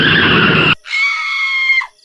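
A car skids in a loud, harsh rush of tyre noise that cuts off abruptly. A woman's high, sustained scream follows and fades out, staged as a sound effect.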